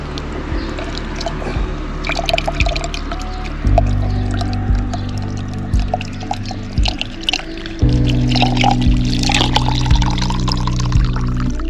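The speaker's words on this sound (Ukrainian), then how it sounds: "А я йду набирати водичку ось тут." Water runs from a tap into a bottle, a steady pour whose tone shifts in steps as the bottle fills, with small splashes and clinks, close by.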